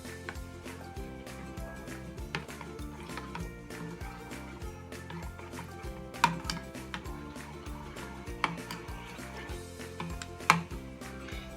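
Spoon stirring spices, red chili and coriander powder through vegetables in a pot for veg dum biryani, a steady run of light scraping with scattered sharp metallic clinks against the pot.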